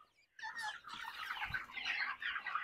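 Young meat-breed male chickens in a coop cluck and chatter in a busy overlapping flurry after a short silence, fairly close but quiet overall.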